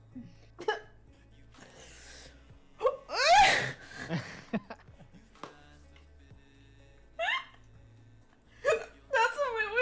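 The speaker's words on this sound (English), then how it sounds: "Oh, I got hiccups now." A girl hiccuping fast and loud, sharp vocal bursts scattered across the clip amid giggles and laughter, with people talking in the background.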